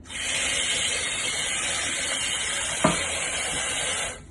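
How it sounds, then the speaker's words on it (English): Rice is rinsed in water in a pot, giving a steady close rushing swish like running water, with one brief knock or clunk partway through and no voices. "I'm going to give it a last rinse"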